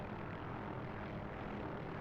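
An OH-6A helicopter in the DCS flight simulator game makes a steady, dense rotor and engine drone, continuous and unvarying throughout.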